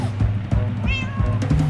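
A cat in Minecraft: Story Mode lets out a short meow amid background game sounds and low rhythmic thumps, fairly close and lasting under two seconds.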